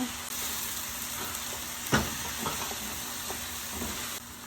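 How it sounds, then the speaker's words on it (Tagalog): Garlic, onion and beef cubes sauté in avocado oil for beef kare-kare, giving a steady close sizzle with light stirring scrapes and one sharper clatter partway through. "Luto ng ating bawang. Sunod ng ating sibuyas. Sigisang maigi po yung mga yan."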